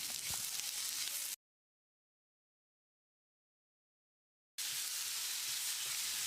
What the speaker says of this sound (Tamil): தக்காளியை மசிகிற அளவுக்கு வதக்கிடலாம்